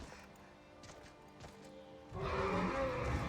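A horse in the game Skyrim whinnies and its hooves clop, with soft steps in the first seconds, then a louder burst of hoof clatter and commotion during the last second.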